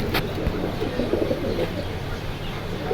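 Pigeons coo at a pigeon market, steady low cooing and calls over continuous crowd and market bustle.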